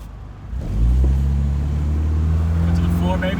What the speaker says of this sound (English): It's making all kinds of weird sounds from the car, but not from the engine.